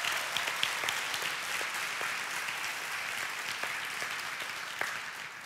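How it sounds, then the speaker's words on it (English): A church congregation gives a sustained round of applause as a hand clap of praise, a dense, steady wash of many hands clapping at moderate loudness that eases off slightly at the end. "Give the Lord a hand clap of praise."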